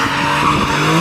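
The tires of a BMW M3 squeal and skid loudly and continuously up close during a race with an M4 in Kazakhstan, under a roaring engine.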